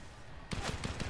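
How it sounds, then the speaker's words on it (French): Burst of gunfire in Fortnite, several rapid close shots starting abruptly after a quiet moment, short and fairly faint. "encore, on se fait tirer"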